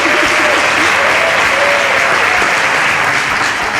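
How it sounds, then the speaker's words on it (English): A studio audience claps loudly for a live band at the close of a cooking show, with continuous, even applause that fills the whole stretch without letting up. "Keep your applause going for the Spice Band."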